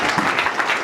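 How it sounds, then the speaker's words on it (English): A church congregation claps together during a sermon, a steady dense wash of hand claps close by and fairly loud, with no talking over it. "Let's clap our hand for Jesus"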